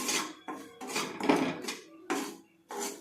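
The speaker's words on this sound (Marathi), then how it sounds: "आता हा रवा घालते, भाजून घ्यायचा आहे आपल्याला" Semolina going into a hot oiled pan to be roasted for upma, giving clattering, scraping bursts of dry grains and utensil against metal that repeat in short rhythmic strokes, close and moderately loud.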